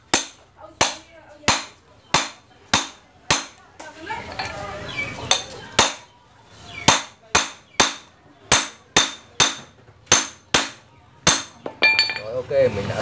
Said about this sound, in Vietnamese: anh em mình lấy tô vít đóng, anh em mình đóng luôn để cho vặn siết cái con ốc này và chật luôn nhá